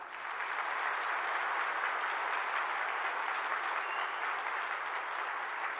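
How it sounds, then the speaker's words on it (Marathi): Steady, dense applause from an audience at a Maharashtra gathering of ST bus employees, even and sustained throughout with no talk over it. "सतीश मेटकरींच्या साठी तुम्ही जोरदार टाळ्या वाजवा."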